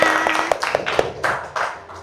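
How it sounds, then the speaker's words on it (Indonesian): A classroom group claps together in a short burst of rhythmic applause, a few even beats followed by looser scattered claps, fairly close and without voices. "Oke, tepuk tangan untuk kita semua."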